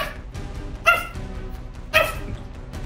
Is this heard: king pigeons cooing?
no